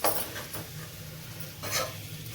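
Capsicum fry being stirred in a pan, with a couple of sharp spoon scrapes and clinks over a soft background sizzle and hum, with no talk.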